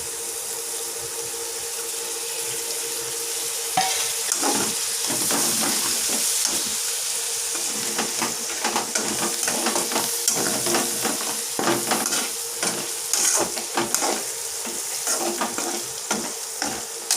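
Food frying in a kadai (bandi) with a steady, close sizzle, broken by repeated scraping and stirring strokes of a spatula against the pan, with no talking.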